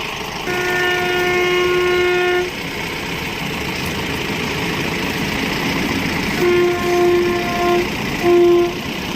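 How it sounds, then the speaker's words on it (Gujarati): A train passing on a rail line beside a narrow road sounds its horn in a long, steady blast, then a pause, then several shorter blasts, all over a continuous rumbling roar of rolling wagons. "રેલગાડી આવી ગઈ"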